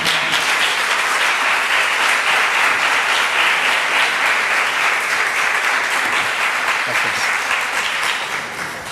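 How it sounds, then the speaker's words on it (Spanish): An audience applauds to welcome a speaker giving a talk, a dense, even wash of clapping that holds steady for several seconds before starting to fade at the end. "Podemos recibirle con un aplauso"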